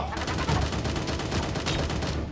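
Gunfire in the cartoon battle-royale shooter Sausage Man: dense, rapid bursts of shots close by, continuous and loud, with players' voices mixed in.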